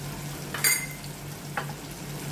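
Spice masala being stirred in a frying pan, a low steady sizzle broken by two brief metallic scrapes of a spoon against the pan, one louder than the other, with no voices.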